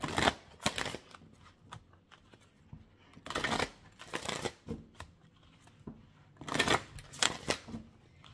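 Tarot cards being shuffled and drawn for a reading, with several bursts of riffling and flicking paper separated by softer handling and brief pauses, close and without speech.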